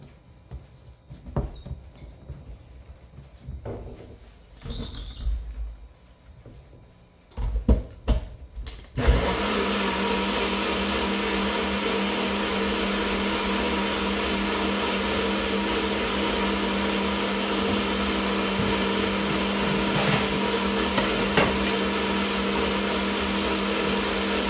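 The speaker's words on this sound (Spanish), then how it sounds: "lo vamos a licuar" A kitchen blender purees asparagus soup with shrimp, starting after some clattering and handling noises, then running as a loud, steady whine that continues unbroken to the end.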